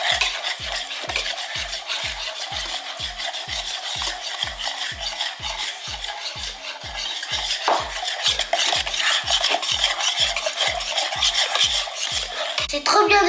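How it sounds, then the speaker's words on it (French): A spoon stirs cake batter in a bowl, scraping in a steady regular rhythm about twice a second throughout, close and moderately loud with no talking. "c'est fini et je vais mélanger."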